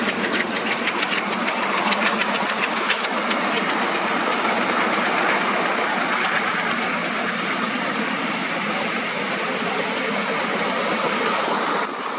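An ALCO diesel locomotive of Indian Railways, built under licence at the Varanasi and Chittaranjan works, rumbles steadily with a continuous loud engine drone and faint clickety-clack of wagons, with no talk.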